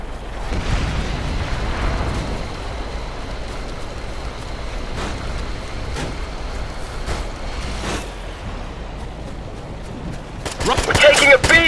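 Gunfire and explosions rage through a firefight in Operation Flashpoint: Red River, with sharp isolated shots cracking over a dense roar of blasts, and a burst of rapid fire near the end; soldiers shout over the din.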